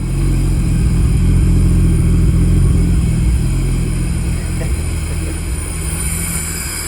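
A Nissan R33 with a turbo conversion and its exhaust fitted idles steadily nearby, a loud, continuous low engine drone holding even throughout with no talk.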